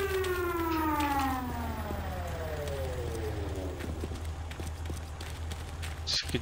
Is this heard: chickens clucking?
no